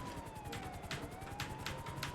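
A police car siren wails quietly in the GTA V video game, a faint rising and falling electronic tone that repeats behind low in-game engine and traffic noise.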